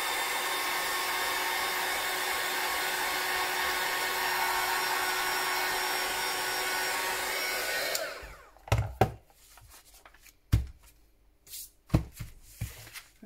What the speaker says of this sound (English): Just get the heat tool on it.